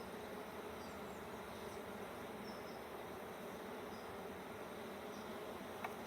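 Honeybees hum steadily around an open hive as sugar is dusted over them, a soft continuous drone with a faint tap near the end.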